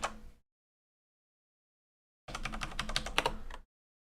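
Someone types on a computer keyboard during a live coding stream: a brief burst of keystrokes, then silence, then a quick rapid run of clicking keys, close and fairly quiet.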